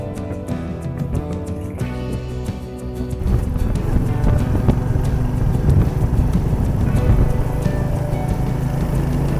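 Steady road traffic on the Mumbai-Goa highway at Mangaon, a continuous rumble of passing vehicles and engines with scattered clicks and knocks, growing louder and denser after the first few seconds.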